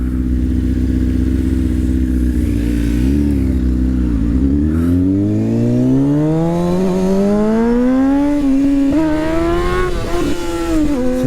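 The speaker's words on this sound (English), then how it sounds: "I'm just ripping it and then just purely gunning it to keep the wheelie going" A motorcycle engine revs hard and is held wide open through a wheelie, its pitch dipping then climbing steadily and strongly; loud and close throughout, with no talk.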